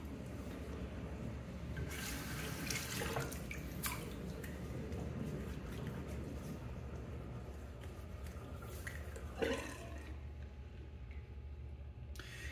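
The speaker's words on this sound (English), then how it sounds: "I'm gonna rinse out the sink here, or let the sink drain." Water rinses through a bathroom sink and gurgles down the drain, a faint, steady flow with a few soft drips and splashes.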